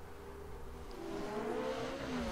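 Race cars in The Crew rev and whir steadily, a continuous mid-pitched engine drone with rising tonal lines, moderately loud and close with no talk over it.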